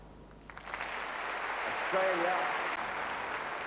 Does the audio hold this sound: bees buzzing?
no